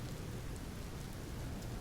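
Rain in Empyrion Reforged Eden falls as a steady, dense hiss of constant wash with no breaks, moderately quiet and even throughout.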